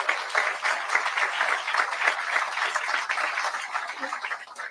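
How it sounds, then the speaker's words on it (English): Audience giving a round of applause for engineering students at a university announcement, sustained clapping from many people at moderate distance, even and continuous with small swells. "Let's give them a big round of applause for everything they do."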